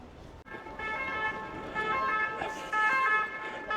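A wailing police siren rises and falls in the distance over steady traffic rumble, with a brief honk-like tone partway through.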